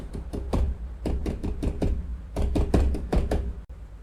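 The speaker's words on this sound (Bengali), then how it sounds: "তারপরে চিকুরা শুনতে পেল দরজায় প্রচণ্ড ধাক্কার আওয়াজ" Heavy, forceful knocking on a door as a sound effect: rapid bursts of loud, close thuds in uneven clusters, pausing briefly before another volley of pounding.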